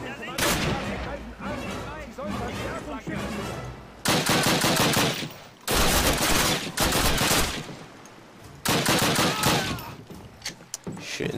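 Gunfire in the Call of Duty battleship Tirpitz level, arriving in loud, sustained bursts of rapid shots separated by short breaks, with some talking in the quieter stretches.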